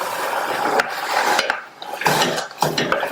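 Chopped tomato is stirred into frying mushrooms in a pan, giving repeated scraping and rubbing strokes with light clinks from a utensil against the pan, close and moderately loud.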